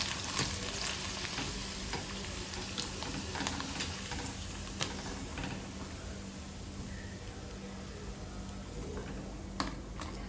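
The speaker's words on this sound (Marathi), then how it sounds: "चला आता मस्त पापड तळून घेऊयात" Khichiya papad fries in hot oil with a dense, steady crackling sizzle and scattered small ticks and pops, continuous throughout with no talking.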